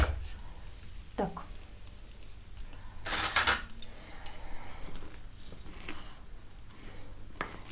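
Clay paste being stirred and mixed in a bowl, wet squelchy stirring with scraping and clinks of a utensil against the bowl, one louder burst of scraping midway, close and mostly without voices.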